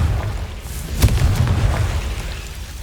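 Confringo fire-blast spell cast in the video game Hogwarts Legacy, heard as a single booming burst with a low rumbling tail over a steady low ambient drone.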